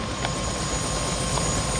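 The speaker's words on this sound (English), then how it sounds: "First time I've ever seen this chopper" A helicopter in the video game Prey sounds as a continuous whirring rotor drone at steady level throughout, with faint clicking accents on top.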